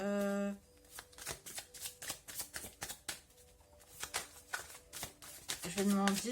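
Tarot cards are shuffled in a rapid run of crisp riffling slaps and flutters, close and fairly loud, with a voice talking briefly at the start and again at the end.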